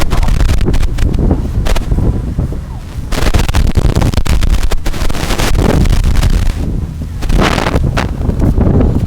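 Tough wind during a women's rowing race on open water between Princeton and Columbia crews, loud gusts buffeting the microphone in repeated surges and lulls, with no voices audible.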